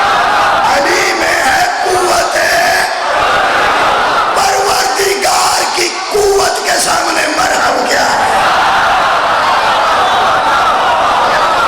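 A large crowd at a Muharram religious gathering chants slogans of Mola Ali in loud, roaring collective shouts that swell and surge continuously, with voices blending into a dense, reverberant wall of sound.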